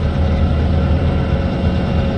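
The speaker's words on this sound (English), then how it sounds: "That's a really long train, and it looks like they're making a run north with Pulpwood." A long freight train hauling pulpwood north behind three locomotives rolls past nearby, a steady loud rumble of wheels and cars with low engine drone throughout, no talking.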